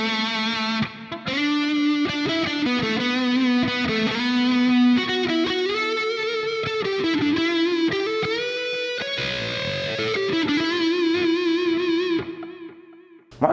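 Electric guitar through an ML Sound Lab Amped ML5 Mesa-style liquid lead preset with noise gate and low reverb, playing a sustained distorted lead line of bending, singing notes with a clean abrupt stop.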